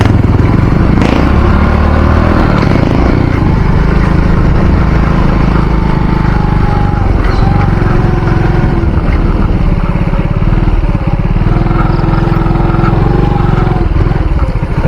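A motorcycle is ridden along continuously, its loud, close engine droning steadily with rattling and clatter for the whole stretch, with no talking.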